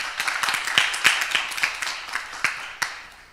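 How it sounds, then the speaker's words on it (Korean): Scattered applause from a small church youth group, sparse individual claps in an irregular patter lasting a few seconds, moderately close and fading toward the end. "박수 한번 주세요."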